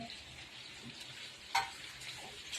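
Chicken sizzles and fries quietly in a pan, a soft continuous crackle with one sharper pop partway through and no voices.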